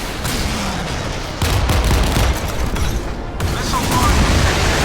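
Rocket launchers firing aboard a warship in the Modern Warships naval combat game: dense, loud bursts of rapid gunfire-like blasts and booms in several overlapping volleys, continuous and close throughout.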